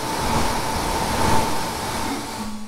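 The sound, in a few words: hotend cooling fan of Geeetech A10M 3D printer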